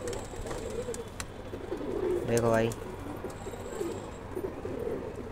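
A paper-white pigeon gives a single close, throaty coo with a rising-falling pitch, heard mid-clip against a backdrop of steady chirping birds and someone speaking briefly.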